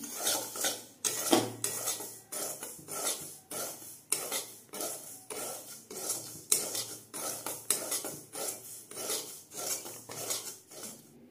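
Semolina being stirred and dry-roasted in a pan on very low heat for steamed rice cakes, a spoon scraping the pan bottom in steady, repeated loud strokes, about one per second, with no voices.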